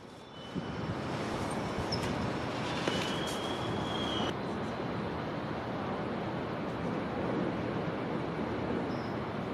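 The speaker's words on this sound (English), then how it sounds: "the next Amtrak train would catch me by surprise" An Amtrak passenger train rumbles past at Emeryville, a loud, broad, sustained roar of wheels and cars that begins abruptly and holds steady, with a brief high whine partway through.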